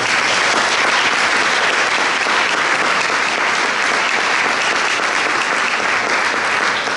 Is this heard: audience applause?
yes